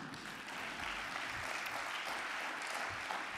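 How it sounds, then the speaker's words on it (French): Faint, steady applause from a conference audience fills the room during a speech by the president of a social-sector union, a continuous soft patter of many hands. "vous pouvez applaudir, allez-y"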